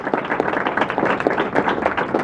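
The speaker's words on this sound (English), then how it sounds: "can we give Crystal a hand of applause?" A conference audience claps for Crystal, a lively patter of many hands at moderate distance, steady throughout the short stretch.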